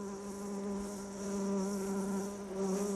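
Male bees buzz around ophrys orchid flowers, a close, steady drone that swells and eases slightly as they hover, with no voices present.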